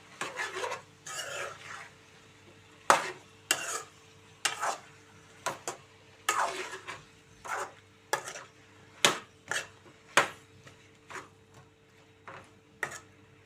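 A spoon stirs brinjal and tomato curry in a pan in a run of distinct scraping strokes, about a dozen in loose rhythm, close and clear with quiet gaps between them and no talking.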